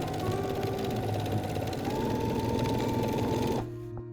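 A home sewing machine stitches fabric, running steadily with a fast, even mechanical whir and rapid stitching clatter, close by, then stops abruptly near the end.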